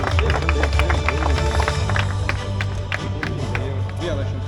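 A crowd at an autocross track applauds the drivers with a dense burst of clapping and some cheering, while an announcer's amplified voice talks over the applause.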